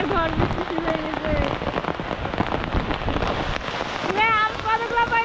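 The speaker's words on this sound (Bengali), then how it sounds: "আর এই যে বাইরে বৃষ্টি এখনো চলতেছে, বৃষ্টি ঝড়ও চলতেছে" Heavy rain pours outside during a storm, a dense close patter on surfaces that runs throughout, while a voice briefly sounds over it near the end.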